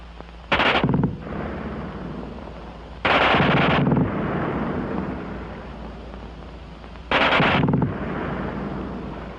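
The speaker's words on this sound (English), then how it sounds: "Nobody but the replacement, who can't get over the fast burp of that German gun" A German machine gun fires three short, rapid bursts at a high cyclic rate, each loud and crackling and trailing into a long echoing rumble, with quiet gaps between them.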